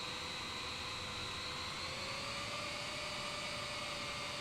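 Boeing 787-10 taxiing in Microsoft Flight Simulator, a steady jet engine whine and hum with high tonal lines, continuous and unbroken, no talk.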